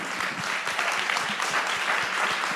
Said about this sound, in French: que tout le monde t'applaudisse et te félicite